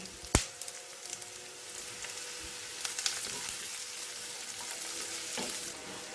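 Sliced onion and curry leaves sizzle steadily in hot oil in a pan for a beetroot potato curry, with a sharp clatter near the start and light stirring scrapes over a constant frying hiss.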